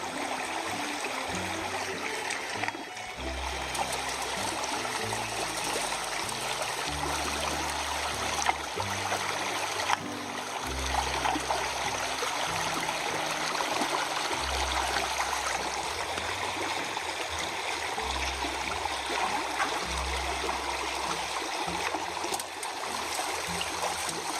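Water rushes steadily through a large gold sluice box running on low flow, a constant near wash and trickle, with low rhythmic thumps and bumps repeating underneath.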